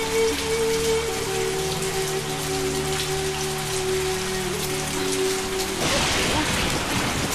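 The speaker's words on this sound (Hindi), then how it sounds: "इतनी बारिश हो रही है" Heavy rain pouring down on a street, a dense and loud steady hiss with some low rumble beneath, while a voice speaks over it.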